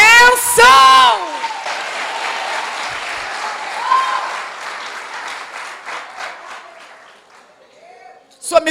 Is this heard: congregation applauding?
yes